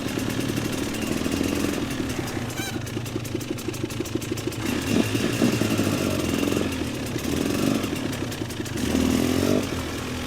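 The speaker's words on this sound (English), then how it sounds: "Standing up on a dirt bike on the ice." A dirt bike rides across ice, its engine droning and revving at moderate distance with rattling clatter and shifting pitch throughout, no speech.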